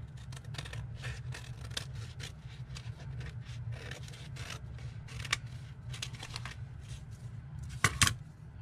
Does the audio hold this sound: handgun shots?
no